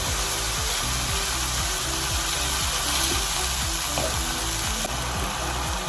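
Mushrooms frying in a pan for fried rice, with a steady dense sizzle and a rhythmic scraping of stirring throughout, loud and close with no voices.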